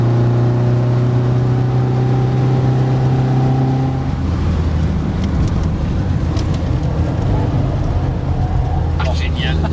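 Matra Bagheera coupé driving fast along a former race circuit through a forest, its engine a steady, loud drone with wind rush, dropping in pitch and roughening midway as it slides slightly; people talk over it.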